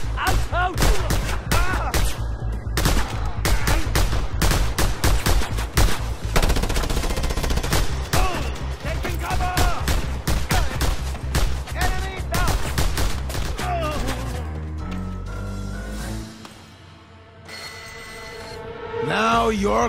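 Rapid mounted gun bursts from Just Cause 2 crackle densely and loudly over a pulsing game soundtrack, repeated sharp volleys packed close together before the firing thins out near the end.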